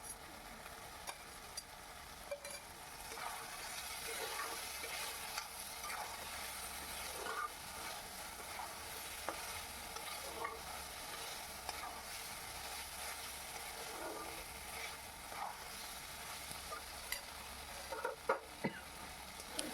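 Fried okra is tipped back into a pan of dhiras do pyaja and stirred, with a faint, continuous sizzle of frying and light scraping strokes throughout, plus a few sharper clacks near the end.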